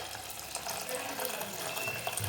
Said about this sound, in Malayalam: അപ്പോൾ ചൂടാക്കിയ വെള്ളം അതിലേക്ക് ചേർക്കാം